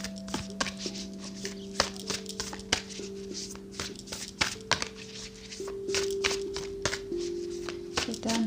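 Oracle cards are shuffled in quick, crisp riffling bursts and taps close by, over soft sustained background music.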